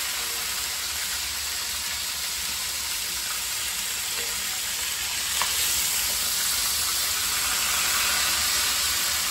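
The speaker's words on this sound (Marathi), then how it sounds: "मी आधी ते तव्यावर ठेवलेलं आहे कारण की जेणेकरून ते लवकर शिजेल" Chicken tandoori coated in a yogurt-and-spice marinade sizzles steadily on a hot griddle, a loud, continuous close-up frying hiss with no talking.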